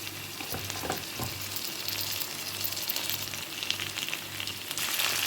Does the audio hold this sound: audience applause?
no